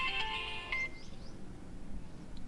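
A phone ringtone chimes briefly at the start, a short melodic electronic tone that fades out within a second and leaves a quiet background hum.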